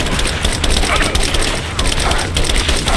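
Video game gunfire rattles on without a break, dense bursts of automatic shots and booms under shouted combat voices, loud and close throughout.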